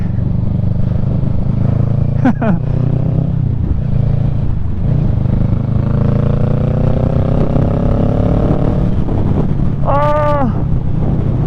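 A Kawasaki Ninja 650 motorcycle eases off and slows, its low engine drone steady under heavy wind buffeting at the microphone, with a brief whine near the start and another toward the end.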